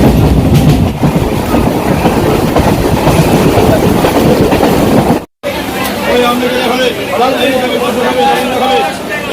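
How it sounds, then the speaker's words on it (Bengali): A Namkhana local train pulls into the platform at Ballygunge station, its loud rumble and clickety-clack of wheels running under crowd babble, with a brief dropout partway through. "বালিগঞ্জের দু নম্বর প্ল্যাটফর্মে আসছে নামখানা লোকাল চলো ট্রেনে ওঠা যাচ্ছে"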